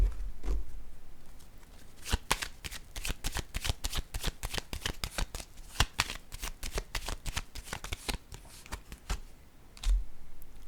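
Tarot cards shuffled by hand close up, a rapid run of crisp riffling slaps and flicks in uneven bursts, with no talking.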